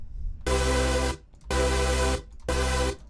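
A bright, buzzy EQ'd supersaw chord from the Serum synth, thick and layered, plays three times in a row. Each note lasts under a second and is separated by a short gap.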